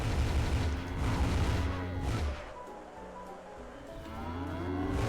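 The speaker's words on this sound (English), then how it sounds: "So now we just have to force these cows across the desert with our hurricane powers." Cows in the video game Rain on Your Parade moo in a desert level, low drawn-out lowing calls that fade to quieter background.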